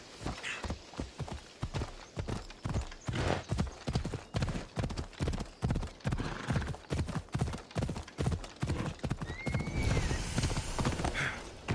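Steady clip-clop of horse hooves at a brisk ride through ancient Greece in Assassin's Creed Odyssey, a continuous rhythmic trot over ground with a brief whinny near the end and faint ambient sound underneath.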